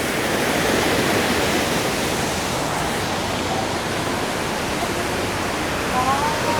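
A dense, unbroken roar of falling water at the Golden Waterfall in Jiufen, Taiwan, loud and close, with faint voices barely audible beneath it.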